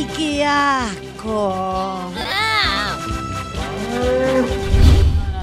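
Cattle moo loudly and close by at a rural livestock show, several long drawn-out calls one after another, with people talking nearby.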